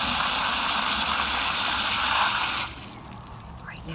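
Water gushing loudly into a bucket in a steady hissing stream, then cutting off sharply, leaving quieter drips and small sloshes.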